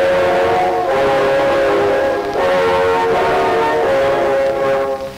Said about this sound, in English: You'll hear old sound like this.